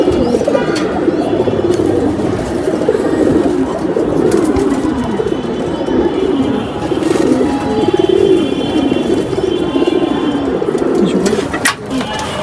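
Domestic pigeons coo steadily through a dense, busy coop while they are being vaccinated, the low rolling calls overlapping continuously with occasional chirps, and a person talks intermittently over them.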